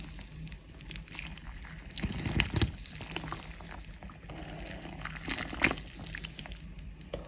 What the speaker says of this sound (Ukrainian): заливаємо крутим кип'ятком